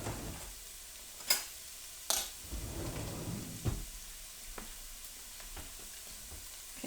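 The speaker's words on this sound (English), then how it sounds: "There's nothing better than garlic in a pan." Garlic fries in a pan with a faint steady sizzle, broken by a few sharp utensil taps and clanks; quiet and close with no talking.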